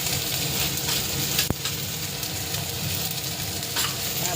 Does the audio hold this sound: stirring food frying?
yes